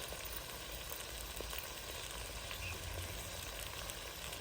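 Green chillies fry in a pan with spices, giving a soft, steady sizzle that stays faint and even throughout, with no voices.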